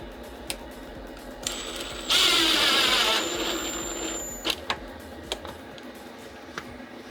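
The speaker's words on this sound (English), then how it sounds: "So I'm just gonna throw a screw in it. Got my drill gun." A drill gun drives a screw into a shaker-style cabinet door inside a Chevy Express 2500 van, giving a brief loud whirring burst that tapers off, surrounded by clicks and small knocks.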